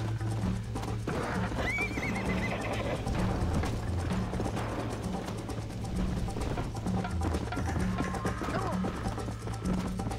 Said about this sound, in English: horse, come on!